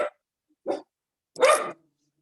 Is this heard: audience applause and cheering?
no